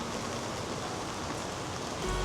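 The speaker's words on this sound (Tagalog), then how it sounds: "Dahil umuulan, I think" Steady rain falls around a house on a trip from Sa Pa to Hanoi in Vietnam, a soft, even wash of drops with no breaks and no voices over it.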